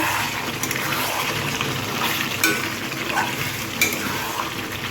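Meat being braised and stirred in a pot, with a continuous frying hiss and a few soft metallic scrapes and clinks of a spoon against the pot, close by and without talk.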